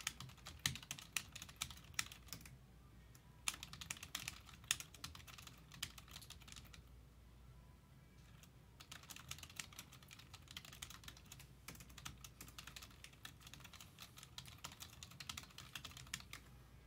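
Rapid, continuous clicking on a computer keyboard while typing a message, quiet and close, with a brief pause midway before the typing resumes.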